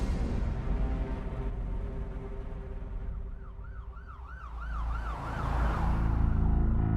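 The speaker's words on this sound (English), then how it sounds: "Philippe Frisson, pulled up to the hospital with the sirens on" Police sirens wail in a rising and falling pattern, growing louder as they approach a hospital over the rumble of traffic.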